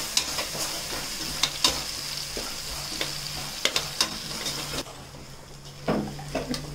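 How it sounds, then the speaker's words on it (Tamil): Mutton pieces, about 280 grams, frying and being stirred in a pan while cooking for Ramadan nombu kanji, giving a steady sizzle with repeated sharp scraping clicks of a spoon against the pan, fairly close and with no talk. "இரநூத்தி எண்பது கிராம் மட்டன் இதோட நல்லா அந்த ஸ்மெல் போகிற வரைக்கும் குக் பண்ணிக்கோங்க"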